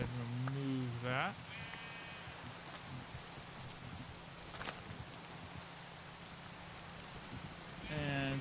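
Steady rain hiss in the video game Minecraft runs through the whole stretch, with sheep bleating briefly near the start and again at the end; no one talks.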